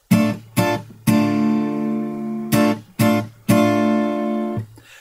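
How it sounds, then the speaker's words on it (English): Acoustic guitar strummed in an off-kilter pattern for a song: short choked strums alternate with longer ringing chords, separated by brief muted gaps. "the strumming pattern we're going to use for the entire song sounds like this"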